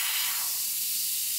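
An airbrush sprays paint at 30 psi, a steady bright hiss of compressed air held evenly and close for the whole short stretch.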